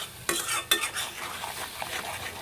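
Close spoon scrapes and clinks against a pan over a low sizzle as turmeric, chilli, coriander powder and salt are stirred together, with two sharp knocks near the start.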